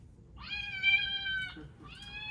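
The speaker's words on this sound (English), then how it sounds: "play that cat noise" A recorded cat meow sound effect played as an actor cue on a Disney theme park ride set: two drawn-out, tonal meows, the second starting after a short pause, clear over a low background rumble.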